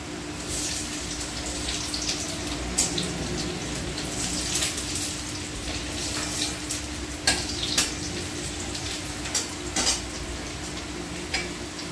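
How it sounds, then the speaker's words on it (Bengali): Chopped garlic sizzles in hot oil in a pan while being stirred, the first step of a chilli chicken. A steady, close frying hiss runs throughout, with occasional scraping stirs and no talk. "আমি দেবো প্রথমে রসুন কুচানো।"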